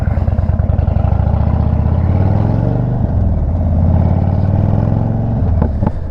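A 2022 Indian Chief motorcycle with a loose, failing exhaust, a loud, close, steady idle with a heavy pulsing rumble and rattle throughout, plus a couple of brief sharp pops near the end.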